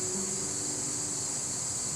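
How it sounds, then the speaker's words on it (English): Cicadas in summer trees give a steady, continuous high-pitched droning buzz that holds at an even loudness throughout, with no talk. "There are some cicadas starting."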